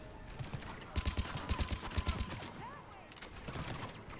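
Vindicator burst rifle firing in Mass Effect 3, a run of sharp, clustered gunshot bursts across the middle of the clip, fairly loud over game ambience, with faint speech nearby.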